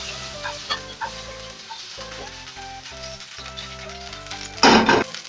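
Chicken pieces sizzle in a pan while cooking for chicken tikka masala, a steady frying hiss beneath tonal background music, swelling into a loud burst of sizzling near the end.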